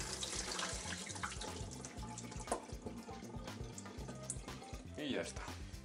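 Tap water runs steadily over fruit being rinsed clean in a kitchen sink while preparing drinks, a continuous splashing flow with a voice speaking over it.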